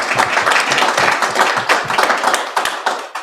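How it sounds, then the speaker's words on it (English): A room full of people gives a lively round of applause for a man named Nate, with dense, close hand-clapping that lasts the whole stretch and thins slightly toward the end. "We give him an actual round of applause."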